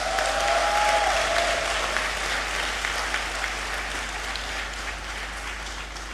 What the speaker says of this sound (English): please join me in celebrating them with a well-deserved round of applause